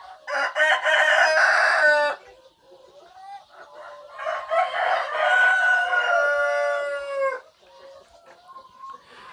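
Healthy KUB-2 village chickens, a Balitnak improved native breed, crow loudly and cluck in two long bursts with a quieter stretch between and softer calls at the end, all close to the microphone.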